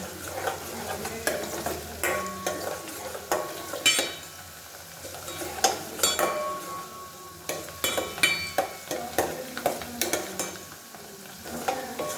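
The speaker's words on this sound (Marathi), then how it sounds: "कांदा लसूण चांगलं लाल परतून घ्यायचं, एकदम लालसर ब्राऊन झालं पाहिजे एकदम." Onion and garlic being fried until reddish brown: a low sizzle under frequent, irregular scrapes and clinks of a metal spatula stirring in the pan, with no one speaking.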